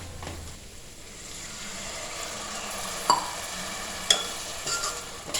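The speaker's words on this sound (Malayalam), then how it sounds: "ഇനി ഇതിലേക്ക് നമുക്കൊരു 1/2 കപ്പ് വിനാഗിരി ചേർത്ത് കൊടുക്കാം." Beef pickle masala cooks in a pan as half a cup of vinegar is poured in, giving a steady low sizzle with a few sharp scraping stirs, fairly quiet and close with no talking.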